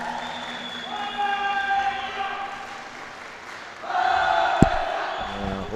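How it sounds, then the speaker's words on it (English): Malaysian supporters cheer at a pencak silat championship, a crowd of voices calling and chanting in sustained waves, fading briefly mid-way and then rising again with a sharp clap or thud. "Look at our supporters from Team Malaysia cheering on"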